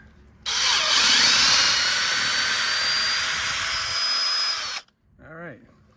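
A power drill spins a car's front wheel hub during a bearing inspection, a loud steady high whine running for about four seconds before cutting off abruptly, followed by a brief voice.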